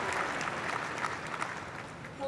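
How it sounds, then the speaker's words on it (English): Audience applause at a university commencement ceremony, a dense, steady patter of many hands clapping that fills the short stretch at moderate level and tails off slightly. "So let's give her another round of applause."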